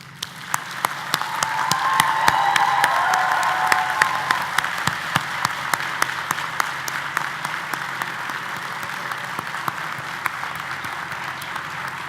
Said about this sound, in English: Please join me in applauding these very important people